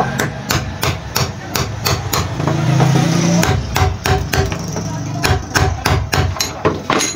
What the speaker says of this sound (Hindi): हम हल्का हल्का इसको पेचकस की मदद से चोट लगाकर टाइट करेंगे